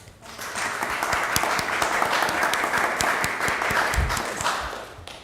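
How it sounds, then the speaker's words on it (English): A room at a city council meeting bursts into applause, many hands clapping densely and steadily for about five seconds before tapering off. "Round of applause."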